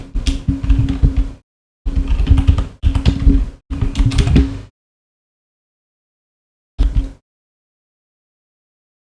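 Typing on a computer keyboard in quick bursts of clicking keystrokes, several short runs separated by silences, heard close and alone.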